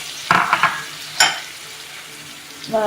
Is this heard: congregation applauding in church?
no